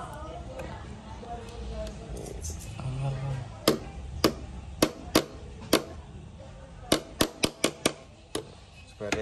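Pieces of 2 mm wire being cut for a miniature truck tub build, heard as a series of sharp, separate snips and clicks, irregular at first then quicker in a cluster, close by over a low room background with some talk early on.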